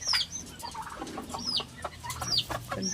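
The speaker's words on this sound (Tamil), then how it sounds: "இங்கே சண்டை சேவலாம் வச்சுருக்கேன்." Fighting roosters kept in cages cluck and squawk nearby in quick irregular calls, with a brief wing flap and no talk.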